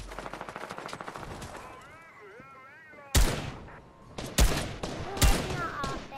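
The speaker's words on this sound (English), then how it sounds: "There's people shooting behind me." Gunfire in a Fortnite match: a rapid rattling stream of shots, then several loud separate bursts, mixed with voices talking and calling out over the game.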